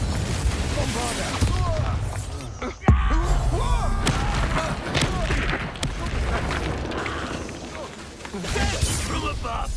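Bombarda blasting spell in Hogwarts Legacy, a sharp explosive boom near the three-second mark standing out from busy battle noise of spell bursts, clatter and voices throughout.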